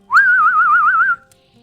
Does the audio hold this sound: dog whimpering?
no